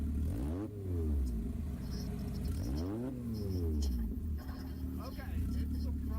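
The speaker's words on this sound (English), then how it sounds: "if you've ever heard a Honda S2000, I thought that's a distinct exhaust note." A Honda S2000 engine idles and revs with a rising and falling exhaust note, fairly close, while people talk in the background.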